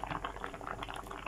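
Malunggay vegetables boiling in a pot, a quiet steady bubbling with soft rapid pops and gurgles continuing throughout.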